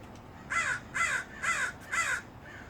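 Crows caw four times in an even rhythm near a small home garden, each harsh call clear and fairly close, then a fainter fifth call trails off over quiet background hiss.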